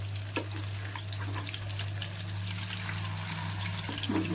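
Small fish shallow-frying in a pan, a soft, steady sizzle over a low constant hum, broken by a few scraping stirs and light clatters.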